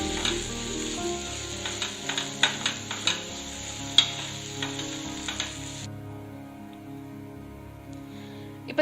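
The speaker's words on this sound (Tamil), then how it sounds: "தக்காளி நல்லா வதங்குற வரைக்கும் நம்ம இந்த மாதிரி மூடி வச்சுட்டு அப்பப்ப திறந்து இந்த மாதிரி கலந்து விடணும்" Tomatoes sauté in a pan for an egg roast masala, a steady sizzle under repeated sharp clicks and scrapes of stirring, close and moderately loud, before the frying noise thins out near the end.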